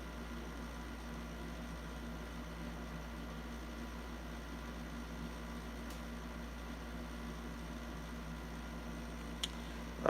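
A room air conditioner hums steadily in the background on a hot early morning, a constant low drone with faint broadband hiss and no voices.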